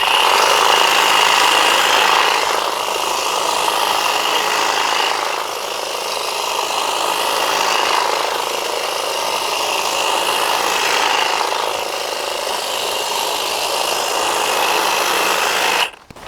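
A cordless lithium-ion hedge trimmer buzzes steadily as it cuts through a beech hedge, close and loud, its motor tone rising and dipping as the blades bite into growth, then it cuts off abruptly at the end.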